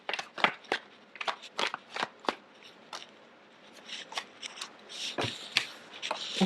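Tarot cards being shuffled and drawn by hand, a quick run of crisp riffling snaps and flicks, close and fairly loud, with no voices.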